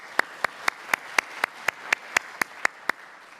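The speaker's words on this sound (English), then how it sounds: "So let's give them a round of applause too." Steady, evenly spaced hand claps at a symposium closing session, about a dozen crisp claps at a brisk regular rhythm, fairly close and alone with no talking.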